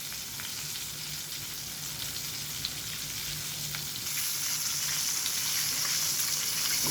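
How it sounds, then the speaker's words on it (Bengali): A homemade chicken burger patty fries slowly in oil with a constant, close sizzle and fine crackling, growing somewhat louder partway through, with no talking. "এটা ভাজা হবে ধীরে ধীরে।"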